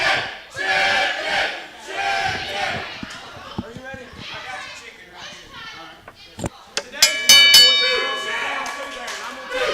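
Loud crowd at a ProSouth Wrestling championship match cheers and shouts continuously, with chanting voices and metallic clangs and dings near the end, likely ring bell strikes.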